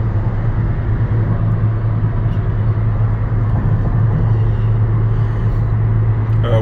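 A turbocharged car cruising on a highway at 80 mph, around 3,000 RPM with 20 psi of boost, gives a steady, loud interior drone of engine and road noise with a constant low hum throughout and no talking.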